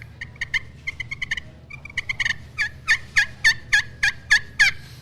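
A FoxPro electronic game call plays a turkey gobble, a rapid, loud series of throaty, warbling calls that starts in quick bursts and builds into an evenly spaced run, with no talking over it.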